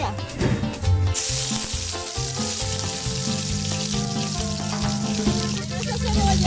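Finely chopped onion fries in a pan with a bright, steady sizzle, joined partway through by a louder hiss and background clatter and tonal humming, close up with no talk.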